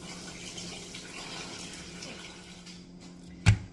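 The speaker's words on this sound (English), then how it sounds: "then add water and wash." Tap water runs steadily over raw chicken breasts being washed in a kitchen sink, a constant close splashing hiss with a brief sharp knock near the end.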